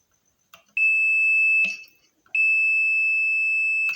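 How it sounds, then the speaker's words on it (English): Two sharp sustained beeps from a multimeter in diode mode probing an IGBT in an inverter welding machine, each tone about a second long with faint clicks of the test leads between them. "you can see that brings a beep"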